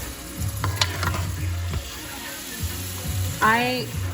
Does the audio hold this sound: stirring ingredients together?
yes